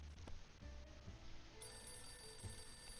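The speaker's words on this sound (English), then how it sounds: "Day 12 and the phone is ringing." A telephone rings in the video game 60 Seconds! Reatomized, a faint electronic bell tone with steady high ringing partials over a low background hum, no speech.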